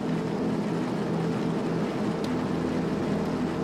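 A 1967 Formula 1 racing car engine in a sim racing game at Zandvoort, a steady, droning engine hum that holds an even level throughout, with no voices.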